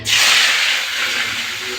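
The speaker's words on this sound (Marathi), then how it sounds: "चला आता मी कांदा टाकून घेते।" Chopped onion dropped into hot oil for pav bhaji, a loud sudden hiss that starts sharply and settles into a steady, slowly fading sizzle.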